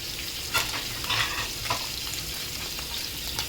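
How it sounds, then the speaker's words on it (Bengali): Freshly caught, cut fish frying in a pan, a close, continuous sizzle with bursts of louder crackle and stirring noises. "মাছ কোটলাম, ধরে আনলাম, কোটলাম, এখন আবার ফ্রাই করতে আছে"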